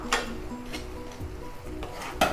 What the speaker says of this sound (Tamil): இப்போ வேக வச்ச பாஸ்தாவை நம்ம சேர்த்துடலாம்.